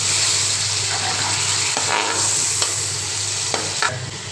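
Meat and tomatoes frying and being stirred in a pot for a Pakistani home-style meat and spinach dish, a steady loud sizzle with a few scraping stirs, no talking.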